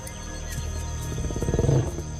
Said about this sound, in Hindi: लेकिन दहाड़ना भी जरूरी है।